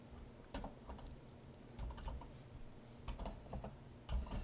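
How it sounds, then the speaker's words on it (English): Quiet computer keyboard typing, a scattered run of soft key clicks and taps in irregular clusters, close and faint, with no talking. "let me also type some text"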